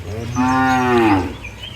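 A four-year-old crossbred dairy cow, two days after calving, gives a single loud, drawn-out moo close by, lasting about a second with a rising then falling tone.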